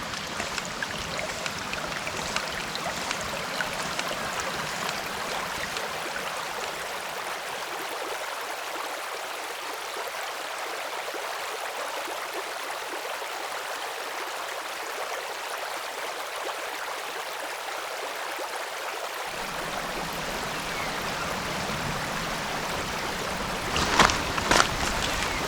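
A flowing stream at a quiet spot, a steady rushing babble of water that holds for the whole stretch, fairly close and even, with a few faint knocks near the end.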